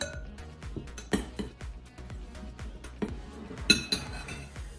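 Carrot cake batter with cinnamon, cloves, nutmeg and ginger is stirred lightly in a bowl, the spoon knocking and clinking against the sides in quick, irregular strokes, close and fairly loud, with no speech.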